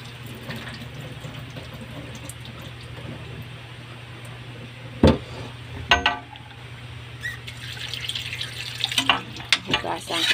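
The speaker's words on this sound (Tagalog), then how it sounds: "Ngayon, itatapon ko yung tubig niya." Cooking water from chicken adobo poured from a pot into a kitchen sink, with a low steady hum, then splashing and pouring with clinks of metal near the end.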